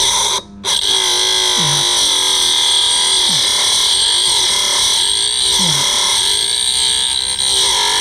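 A Scheppach DBS800 drill bit sharpener grinds a steel drill bit, giving a steady high-pitched whine with brief scraping swells as the bit is twisted against the wheel; the grinding sound runs continuously and fairly loud.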